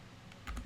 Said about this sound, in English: type A on your keyboard, which again copies those files over